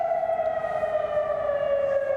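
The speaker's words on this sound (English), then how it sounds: "Air raid sirens across Oman." A single steady air raid siren in Oman wails continuously at a sustained pitch, loud and unbroken, with no voices.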